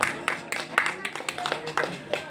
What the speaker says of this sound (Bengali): তার জন্য আরো জোরে জোরে হাততালি